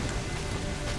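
Rain falling in Assassin's Creed IV: Black Flag, a dense, even hiss of steady rainfall without pause, moderately quiet.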